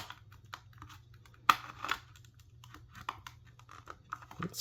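A game cartridge is pushed into a Sega Genesis Model 2 console slot, producing a sharp snap followed by scattered scraping, crunchy clicks and rustles nearby, fairly quiet and without speech.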